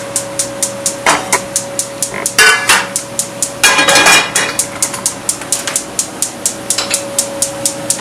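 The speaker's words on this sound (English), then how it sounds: "we're going to continue to slice up our mushrooms" A knife slices mushrooms on a cutting board in a quick, steady run of sharp, close taps, with a few louder scraping clatters mixed in and a faint steady hum in the background.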